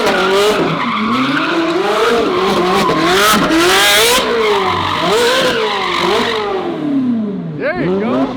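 A 1,300 whp twin turbo Ferrari F12 roars loudly and without a break as it slides, its engine revving hard and rising and falling with the throttle. The tires squeal and skid throughout, close and dominant.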